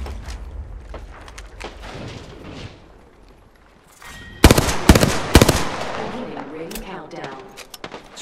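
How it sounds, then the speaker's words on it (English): Battle royale video game gunfire, scattered shots early and then a sudden loud cluster of sharp cracking bursts close by, with brief explosive-sounding hits over a busy game background. "They're shooting at me!"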